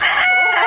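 A Cecil Davis bullstag rooster crows loudly and close in a single brief, bright call with no voices over it.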